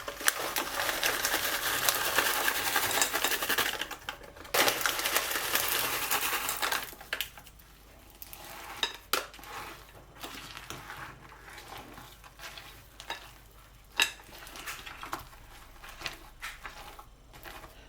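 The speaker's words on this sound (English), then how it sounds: "fold them through with the spatula some more" A spatula folds a thick cheesecake batter in a bowl, soft wet scraping and squelching strokes with a few sharper taps against the bowl, quiet and close, under a louder steady hiss at the start.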